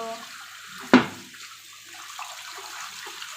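Running tap water rinses a wooden chopping board in a kitchen sink, a soft steady wash near the mic broken by one sharp knock from the board, with a voice faintly in the background.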